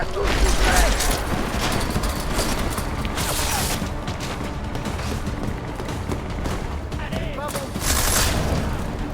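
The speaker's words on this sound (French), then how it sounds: "Ça tire, prépare-toi." Sustained gunfire in the video game Deus Ex: Mankind Divided, a dense fusillade of shots and mechanical clatter filling the whole stretch with steady loudness and louder bursts near the start and end.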